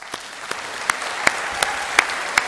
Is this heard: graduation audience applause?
yes